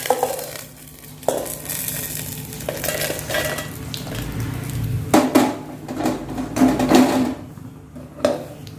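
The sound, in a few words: frying spices for Mangalore-style clam sukka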